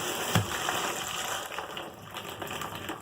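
Water runs from a bathtub spout and the shower head at the same time, a steady rushing spray of moderate loudness with no talking.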